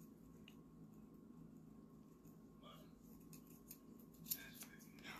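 Scissors snip through yarn indoors with soft, close crisp clicks, one sharper snap near the end, under a low steady room hum.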